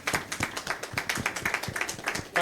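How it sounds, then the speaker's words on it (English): A seated-then-standing audience at a cancer survivors session of a Nigerian ecosystem launch gathering gives sustained, dense applause for the speakers, steady clapping with no voices. "A big round of standing applause for these fantastic speakers."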